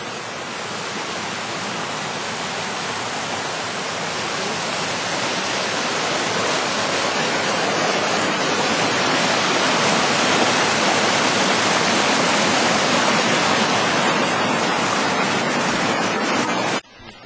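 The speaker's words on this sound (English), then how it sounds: "Right there's where the spring's coming from, out of that tree." Spring water rushes steadily through a forest stream, issuing from the base of a tree, as a dense, unbroken wash of noise that holds loud and close throughout with no voices.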